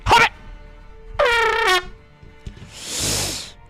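Loud air horn blast from a handheld Tröte, a broad hissing honk of about a second, heard after a short spoken phrase and a brief tonal squeak.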